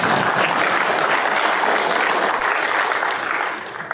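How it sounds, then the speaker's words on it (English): An audience breaks into loud, dense clapping that holds steady for a few seconds before tapering off at the end. "As Jeb Bush would say, please clap."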